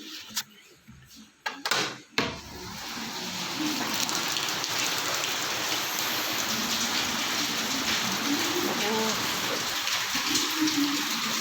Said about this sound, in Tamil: ஹாய் சரியான மழை பெய்யுது பாருங்கள்